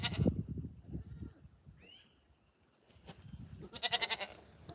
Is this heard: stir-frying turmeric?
no